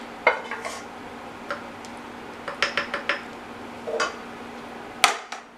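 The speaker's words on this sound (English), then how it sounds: "So let's mix this together" A spoon stirs a pot of frijoles charros, making a series of close, sharp clinks and scrapes against the pot in irregular bursts, with no talking.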